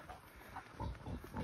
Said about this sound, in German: Also die Schweine sind sicher gesünder wie unsere und die lassen sich nichts bieten.